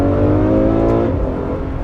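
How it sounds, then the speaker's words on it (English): A Ferrari F12 Berlinetta's 740-horsepower naturally aspirated engine revs in a loud, close, sustained burst that tapers slightly at the end. "Naturally aspirated engine, 740 horsepower"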